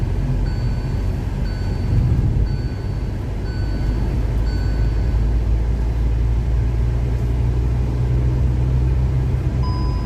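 Hyundai i20 BS6 turbo petrol GDI engine with seven-speed dual-clutch transmission, heard as a steady loud low engine drone and road rumble throughout, with no distinct shift breaks.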